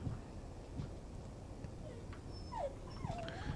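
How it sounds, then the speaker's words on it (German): A dog whimpers with a few high, thin whines near the end, heard faintly over low room noise and background sounds while a German-language space-engineering game plays. "Das ist der Hund."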